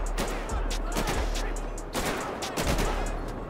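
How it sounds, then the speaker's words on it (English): Gunfire in GTA 5 during a street shooting: a rapid run of repeated shots in quick bursts over steady background noise, with low thumps recurring through the scene and no clear talk over them. "Oh, they shooting at my boy."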